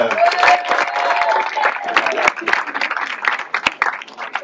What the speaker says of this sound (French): Faites un tonnerre d'applaudissements également pour la deuxième jury